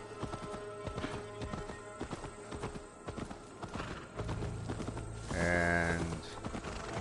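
Steady horse hooves clip-clop at a walking pace in Assassin's Creed Valhalla, close and clear, with a synthetic game-like ambience and a brief tonal swell near the end.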